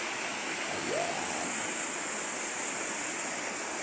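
A natural waterfall pours into a deep swimming pool outdoors, giving a steady, full rushing hiss that stays even and close throughout, with a brief voice near the start.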